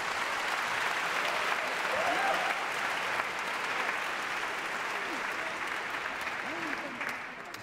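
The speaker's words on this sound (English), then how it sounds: "If you want to hear more, you got to clap louder than that." A concert audience in Singapore applauds a violin concerto performance with sustained, dense clapping that holds steady before tapering slightly at the end, with some crowd noise mixed in.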